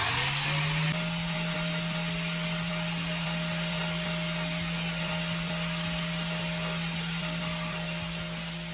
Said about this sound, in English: Turn on the grinder and lightly touch the tip against the sandpaper.